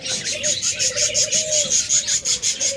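Pet lovebirds at a sale chirp in a steady stream of high, pulsing calls, a dozen or so quick repeats over a couple of seconds, near and fairly loud, with a lower whistling tone running beneath.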